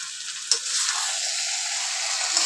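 Raw potato pieces hitting hot oil in a pan of chicken curry, giving a steady close sizzle and hiss after a brief clatter as they go in, with no talking.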